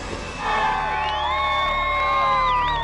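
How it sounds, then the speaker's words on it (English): A crowd cheers, whoops and yells outside a prison after Ted Bundy's execution, with sustained horn-like tones and whistles over a dense, loud festive roar that swells after the first half second and holds steady. "it was almost a carnival atmosphere on the part of some of these people. Cheering, blowing of horns, celebration"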